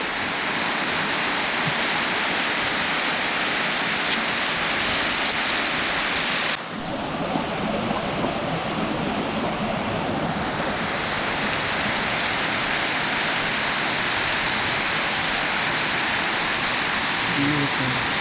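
Waterfall cascades near Green Bay, Wisconsin, a loud, steady broadband roar of falling water, close and unbroken throughout.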